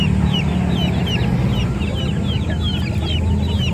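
Flock of Bangkok chicken chicks, classic pama youngsters about two months old, clucking and peeping continuously in a busy, dense chorus close by, with no talking.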